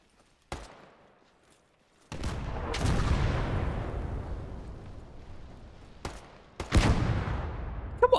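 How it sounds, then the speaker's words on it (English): Artillery fire in a World War II game set during the Normandy campaign: a sharp crack, then heavy booming blasts with long rumbling decays, followed by several further impacts, all loud and fairly close, with no voices. "Yeah, that's our artillery."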